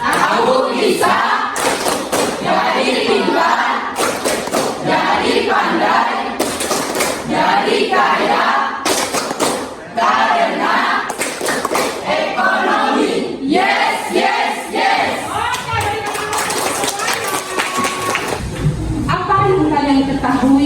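A classroom of students claps and chants the 'Tepuk ekonomi' together in rhythmic bursts, loud and lively, with voices shouting in unison over thumping claps.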